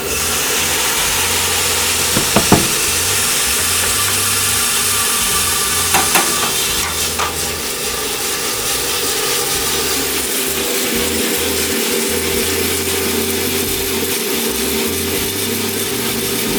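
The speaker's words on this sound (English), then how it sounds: "So this is a Giesen coffee roaster." A Giesen 15 kg drum coffee roaster roasting washed Ethiopian beans, with a steady loud mechanical rumble and whir, a few brief clatters early on, and no talk.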